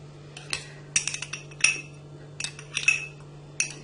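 A metal spoon stirs yogurt in a bowl, clinking against the sides in short irregular bursts of bright taps, close up and with no one talking.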